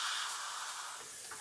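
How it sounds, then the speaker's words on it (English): Paint sprays from an airbrush with a partly clogged dry tip, a close, steady hiss that sputters and fades slightly toward the end, with no talking. "we get a little bit of paint stuck on this tip and it doesn't spray quite as well"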